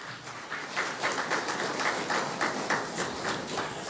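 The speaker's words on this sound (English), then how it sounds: "Give yourselves a round of applause" Thin, scattered clapping from a morning audience at a cabinet ministers' swearing-in ceremony, a small crowd giving a weak, uneven round of applause that holds steady throughout.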